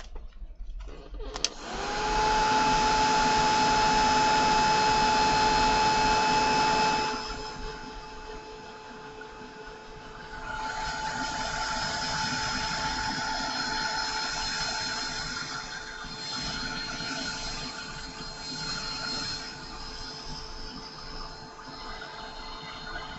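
A handheld heat tool blows a steady, loud whirring hiss while drying ink on craft paper. It runs strongly for several seconds, then continues at a softer level to the end.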